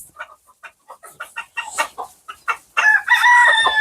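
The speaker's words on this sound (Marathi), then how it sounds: "कोंबडी धर नको" A hen clucks in a rapid series of short, close clucks, then breaks into a loud, drawn-out squawking cackle near the end.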